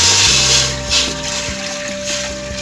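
Water gushes and splashes into a pot on a lit stove as four bowlfuls go in for cooking rice, loud and close, in several distinct pours with brief pauses between them.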